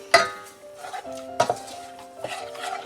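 A spoon knocks and scrapes against a pot of simmering pizza sauce on a stove, with three distinct clinks and soft stirring scrapes in between, close and fairly quiet.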